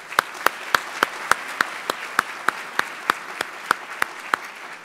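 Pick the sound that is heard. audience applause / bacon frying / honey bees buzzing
audience applause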